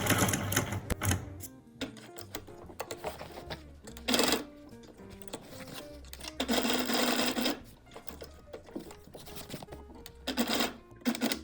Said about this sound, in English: now let's move to the sewing machine. Sew around the buttonhole opening